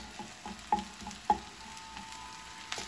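A utensil stirring salmon fried rice in a hot pan, with soft irregular scrapes and taps against the metal over a faint sizzle, close and quiet with no talking.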